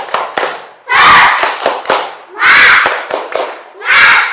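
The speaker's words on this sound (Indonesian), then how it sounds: "Oke, kita tepuk semangat dulu" A classroom of students performs a rhythmic spirit clap, loud bursts of group clapping in a patterned sequence of quick claps and sustained rolls, with voices chanting along between the clap phrases.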